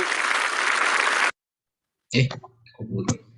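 Audience applause fills the first stretch as a loud, dense burst of clapping that cuts off abruptly, followed by silence and then a voice speaking.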